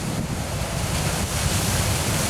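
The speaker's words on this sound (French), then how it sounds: "il y a une grosse houle, donc on a un spectacle d'océan qui est assez intéressant" Big ocean swell on a coastal footpath, a constant loud roar of surf mixed with heavy wind buffeting the microphone, with no voices.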